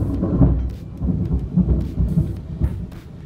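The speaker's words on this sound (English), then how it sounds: "there may be occasional thunders here and there throughout today's video." Low rumbling thunder rolls on and off over a steady patter of rain, fairly loud and close.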